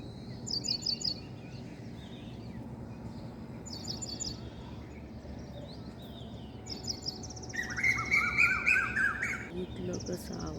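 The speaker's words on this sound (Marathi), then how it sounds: "इथलं कसा आवाज येतो कोकिळेचा." Outdoors on a humid morning with rain threatening, an Asian koel calls in short repeated phrases alongside other chirping birds, with a louder, rising call near the end, all over a steady background hum.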